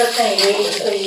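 Bhel, a puffed-rice snack, is stirred in a metal kadhai wok, making a continuous scraping, rustling rattle. Voices murmur alongside it.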